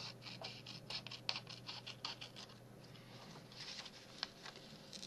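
Scissors cut envelope paper for a booklet with quiet, repeated snips and light scratchy paper rustle, close and faint.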